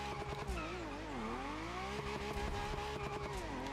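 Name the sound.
Maserati car attempting donuts in The Crew Motorfest video game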